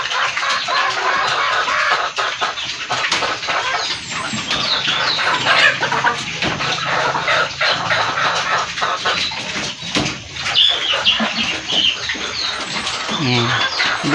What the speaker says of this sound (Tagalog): Mga manok.